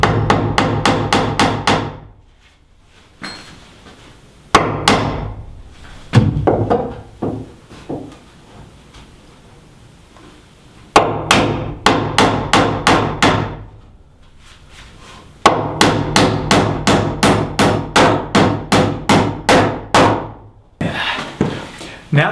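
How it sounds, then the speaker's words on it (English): Nails hammered into boards for a bathroom wall in a tiny house build: bursts of loud, rapid, evenly spaced blows close by, separated by short pauses and quieter handling noise. "This might not stay whenever I nail into it."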